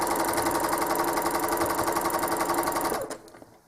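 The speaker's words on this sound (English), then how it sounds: "So I'm going to stitch down to the center of that heart, stitch around the solid side" A home sewing machine does quilting stitches on a heart motif, humming in a fast, steady rhythmic chatter at close range, then slowing and stopping near the end.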